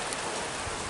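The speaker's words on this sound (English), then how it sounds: "Now it's starting to rain." Rain starts to fall during an Oklahoma thunderstorm, a dense broadband hiss of drops that holds steady and fairly loud for a moment with no talking.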